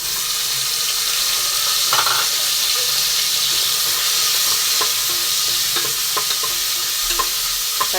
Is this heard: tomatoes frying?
yes